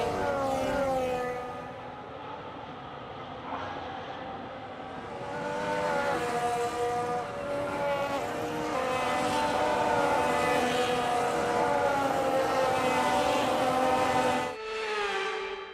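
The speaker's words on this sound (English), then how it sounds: "The formation lap gets underway and every driver will be looking to settle in for the race ahead" Formula 1 cars on a formation lap in an F1 video game, a loud sustained high-pitched engine whine with shifting harmonic tones that rise and fall, accompanied by no talking.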